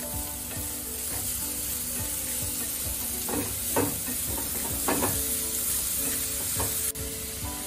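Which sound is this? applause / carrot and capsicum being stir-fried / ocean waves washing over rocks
carrot and capsicum being stir-fried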